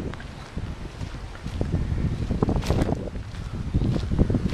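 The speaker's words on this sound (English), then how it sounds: "you can see it's a fairly windy day today" Gusty wind buffets the microphone beside riverside vineyards at the Ducru-Beaucaillou estate, a steady broadband rumble with rising and falling surges throughout.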